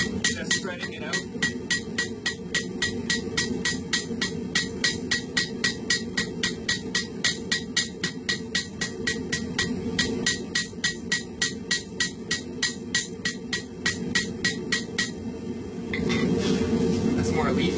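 A hammer forges a steel leaf hook, ringing blows struck in a fast, even rhythm for about fifteen seconds before stopping, close and prominent over a low background hum.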